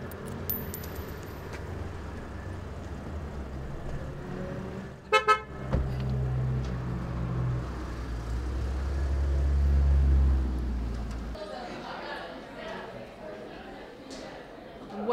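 A car pulls up with a short horn toot partway through, followed by a low engine rumble that swells and then cuts off, with voices nearby.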